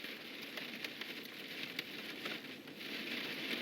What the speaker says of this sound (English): heavy rain and possibly a little bit of hail